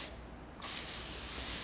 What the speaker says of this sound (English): give it giant spray. And I always lift the hair up and spray as it's kind of separating